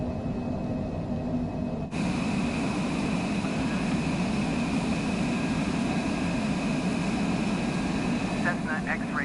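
Cessna light aircraft engine in Microsoft Flight Simulator 2024, a continuous droning hum that jumps louder after about two seconds and holds steady, with faint radio chatter near the end.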